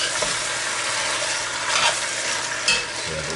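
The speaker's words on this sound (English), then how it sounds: "give it a stir" Curried chicken sizzling in a pot as it is stirred, a dense steady frying hiss with occasional scraping swells from the spoon, close and fairly loud.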